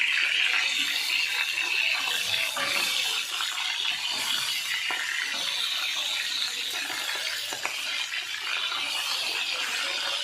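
Vetki fish bones fry in hot oil, giving a continuous bright sizzling hiss scattered with small crackles and pops, close and steady throughout with no talking.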